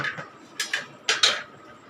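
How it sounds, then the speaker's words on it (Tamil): A pan of masala upma being stirred, with several sharp metallic clinks and taps of a spoon and lid against the pan, spaced out and close by, the last knocks suggesting the lid set on top. "நல்லா கிண்டிட்டு நம்ம இதை மூடி போட்டு இப்போ ஸ்லோ ஃப்ளேமில் அப்படியே விட்டுடலாங்க"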